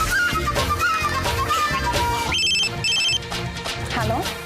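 A telephone rings in a Kannada TV serial scene, its repeated electronic trill cutting in over continuous background music, with a short gap between bursts and the score carrying on underneath.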